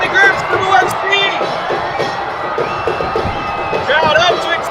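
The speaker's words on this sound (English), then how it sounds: "Crowd up to its feet" A football crowd at a Philippines Football League match between Dynamic Herb Cebu FC and One Taguig FC roars and cheers steadily after a goal, with whoops and shouts throughout and a commentator's voice running underneath.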